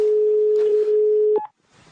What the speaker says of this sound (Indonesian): Aku telepon dulu untuk menanyakan